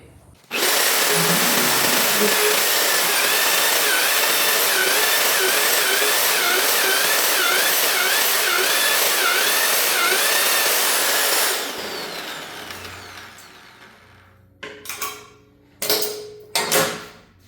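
An Evolution magnetic drill bores holes in metal with a loud, steady motor whine lasting about eleven seconds, then spins down, followed by several short bursts as it starts again.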